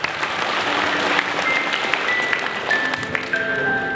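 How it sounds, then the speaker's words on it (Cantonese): A crowd of wedding guests at the ceremony claps for the newly married couple, giving steady, sustained applause that stays even in loudness for several seconds. "再次掌聲送俾佢哋啊！"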